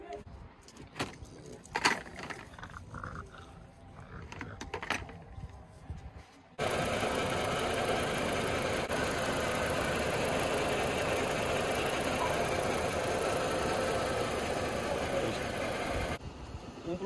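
A car engine, earlier fitted with a water-electrolysis hydrogen generator kit, runs with a steady, loud, even drone from about the middle of the recording onward, after a quieter stretch of scattered handling noises.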